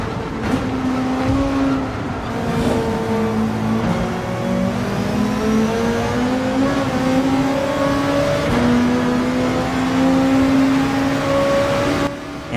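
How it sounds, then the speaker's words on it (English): Engines of a Mitsubishi Lancer and a Toyota Supra drone loudly and continuously at close range in Gran Turismo 7 during an endurance race at the Nürburgring, their pitch climbing and shifting through gear changes. "The big baller in his Lancer has now wiggled past the Supra."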